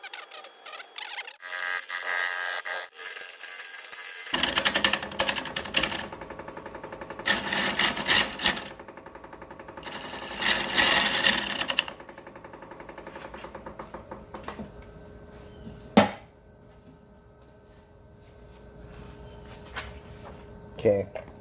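Harsh rasping and scraping bursts from a tool scraping out a root ball wood bowl spinning on a lathe, coming in several loud stretches with quieter machine hum and pauses between.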